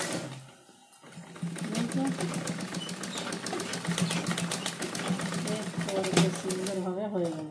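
A sewing machine runs a steady fast stitching chatter through blouse fabric, close and loud after a brief pause near the start, with a voice talking over parts of it.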